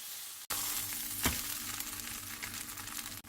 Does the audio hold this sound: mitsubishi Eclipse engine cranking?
no